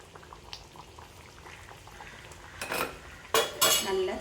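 Tuna fish curry with drumsticks and green chillies simmers in a pot on a stove, a soft steady bubbling with a few louder clinks and scrapes of utensils near the end.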